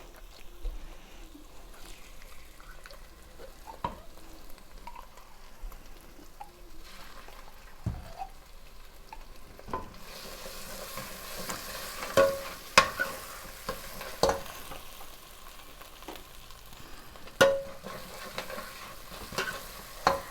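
Tomato paste being stirred into a frying chicken sauce in a pot, giving a low steady sizzle with occasional scraping and clinking spoon strokes, close by and with no talking.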